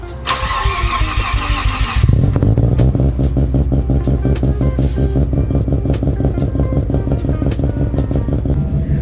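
A Mazda FD RX-7 rotary engine cranks for about two seconds, catches with a loud rise, then settles into a steady, lumpy idle that pulses evenly, close up and with no talking.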